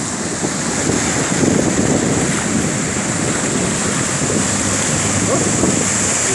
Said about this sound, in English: Sitting in the bay waiting for the waves to clear out.